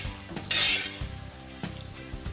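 Fresh rosemary and oregano being stirred in a frying pan, with a brief hiss of sizzling early on and soft scraping of a utensil against the pan through the rest, close up.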